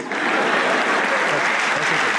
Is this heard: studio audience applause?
yes